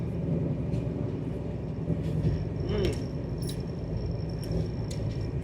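Inside a moving train passing Lonavala station, a steady low rumble and rattle of the carriage with faint clicks and squeaks, under a light murmur of distant voices.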